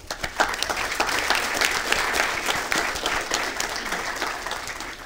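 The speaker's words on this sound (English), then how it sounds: "Let's give them a round of applause." A room full of people clapping at a city council meeting, dense and steady for several seconds, with no speech over it.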